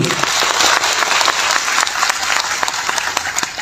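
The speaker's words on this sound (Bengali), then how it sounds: "আমরা সবাই বর্তমান ম্যানেজমেন্টের উদ্দেশ্যে একটা করতালি দেব" Audience applause fills the hall at an organisation's 24th anniversary event, a steady, dense clapping held at full strength for the whole stretch with no pause.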